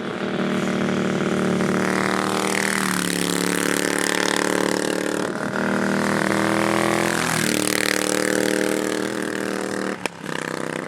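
A restored classic motorcycle engine runs loud and close, swelling through two strong revs before it settles back to a steady throb and briefly cuts out near the end, with no voices.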